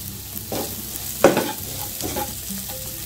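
Curry leaves sauté in a pan with a kidney bean dish under way: loud, close scraping stirs come in bursts over a low sizzle, the strongest about midway.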